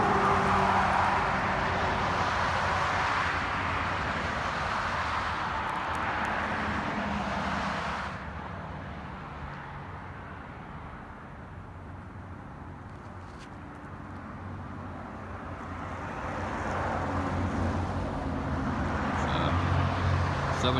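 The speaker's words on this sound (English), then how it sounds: "I apologize for the noise too because I'm right next to the highway" Steady roar of highway traffic from a road right alongside, loud and continuous, dipping for several seconds midway before swelling back up to full strength.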